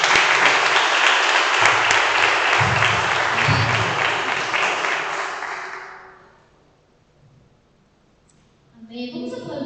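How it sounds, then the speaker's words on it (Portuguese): A church congregation applauds loudly and steadily for about five seconds before the clapping fades to near silence, then a voice starts speaking. "Em nome de Jesus, aplauda o Senhor,"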